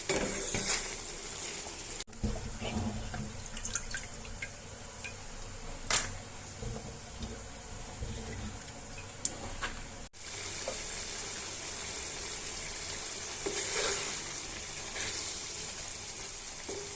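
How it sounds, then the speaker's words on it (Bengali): Small tengra fish fry with chilies in a pan, a moderate steady sizzle with occasional stirring scrapes and light utensil clinks, interrupted by a couple of abrupt cuts, no speech. "এরপর আমি ট্যাংরা মাছের জন্য রান্না করার জন্য মরিচ কষিয়ে নিয়েছি। এখন মাছগুলো দিয়ে দিয়েছি।"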